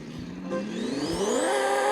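A car engine in a racing video game revs steadily higher, its pitch climbing smoothly over about two seconds. The sound is loud and continuous, with no talk.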